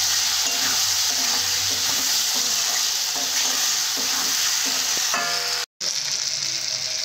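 Rohu fish with salt and chili powder frying in a pan, a loud steady sizzle and crackle up close that cuts out completely for a moment near the end, then resumes.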